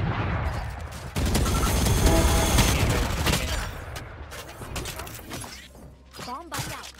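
Gunfire and explosive bursts from a first-person shooter video game as a grenade is thrown, with a sustained loud barrage fading into scattered shots while a player talks over it.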